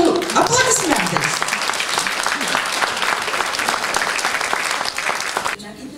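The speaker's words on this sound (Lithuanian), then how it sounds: "Pasitikit su aplodismentais." An audience applauds to welcome the Verbena group of third-age university students onto the stage, sustained dense clapping that stays full and steady for several seconds before cutting off abruptly near the end.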